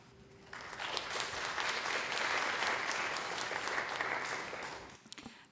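Audience applause welcoming a speaker to the podium at an opening session, a dense, steady clapping that starts abruptly, holds for several seconds and tapers off near the end, with no talking.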